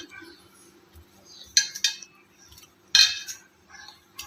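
Steamed cabbage vadi rolls are lifted out of a pan, producing a few sharp metallic clinks and scrapes of utensils against the pan with quiet gaps between them.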